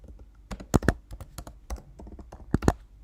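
Keys clatter on a computer keyboard while an email address is entered into a feedback form, a quick irregular burst of close, crisp taps with a few louder strikes, and no voices.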